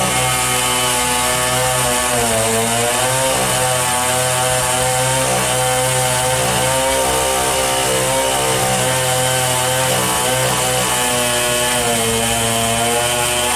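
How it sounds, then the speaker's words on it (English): A reciprocating chainsaw runs loud and continuous, its engine drone shifting slightly as it bites through wood, with no voices. "the reciprocating chainsaw steps up"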